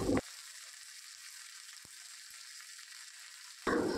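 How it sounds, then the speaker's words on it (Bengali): Slit green chilies dropped into hot oil with ginger and garlic for a fish-head muri ghonto give a brief burst of sizzle at the start, then near silence, and a second loud sizzle returns at the end. "এবার দিয়ে দিচ্ছি চেরা কাঁচা লঙ্কা"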